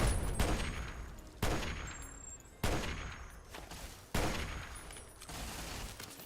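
Sniper rifle fire in the video game Fallout: four loud, sharp shots spaced roughly a second and a half apart, each trailing off into a long rumbling echo, with no talking.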